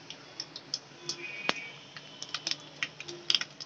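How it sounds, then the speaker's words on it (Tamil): Mustard seeds pop and crackle in hot oil as scattered sharp ticks, close and fairly quiet, in an irregular sputtering rhythm with one louder snap. "கடுகு பொறியிற சவுண்டு கேட்குறீங்களா?"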